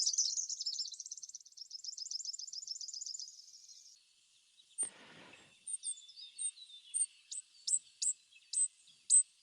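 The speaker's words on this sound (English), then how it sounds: "seeing these beautiful, superb fairy wrens. So I'm just going to play the whistle or the song" Superb fairy wren song played back from a recording: a rapid, high trilling reel for about four seconds, then after a short gap a series of sharp, evenly spaced high chirps, clear and fairly close with no talk.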